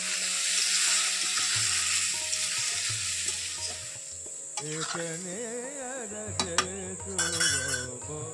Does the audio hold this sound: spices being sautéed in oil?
yes